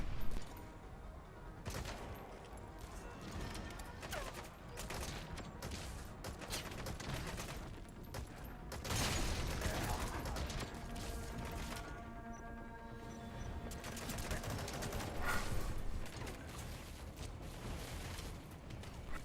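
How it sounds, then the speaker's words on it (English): Sustained machine gun fire in Metal Gear Solid V rattles in long dense bursts with brief gaps, mixed with impacts and booms, steady and moderately loud throughout. "look at how much damage per second I can do with the machine gun"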